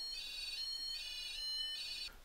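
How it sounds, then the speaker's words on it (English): An alarm going off indoors in a dark room, shrill high-pitched electronic tones pulsing in repeated bursts, loud and close with no talk over it. "the alarm in here is going absolutely fucking crazy"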